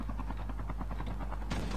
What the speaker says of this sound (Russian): Вертушка на крыше.